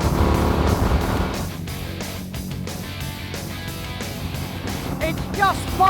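An FTR motorcycle accelerates along a coastal road in North Devon. Its engine and the rushing wind form a steady roar that swells near the end, while a voice talks over it.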